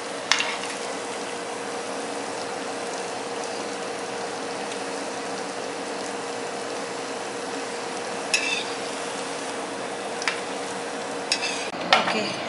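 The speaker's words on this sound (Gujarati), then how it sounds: "આટલા નાના નાના આકારમાં ભજીયા બનાવી અને એને તળી લેવાના" Small vegetable Manchurian bhajiya balls deep frying in hot oil, a steady broad sizzle throughout with a few faint clinks of utensils near the end, no voices.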